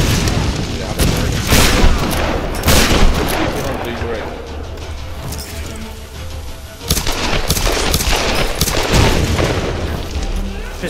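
Pistol gunfire from Tomb Raider: Definitive Edition, a string of loud close shots and booming bursts that recur throughout over steady game noise, with people talking.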